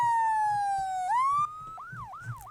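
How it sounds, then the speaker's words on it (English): A loud electronic emergency vehicle siren in a video game holds a long falling tone, then jumps up and switches to quick rising whoops, with a faint low hum underneath. "that's a loud wheeling siren."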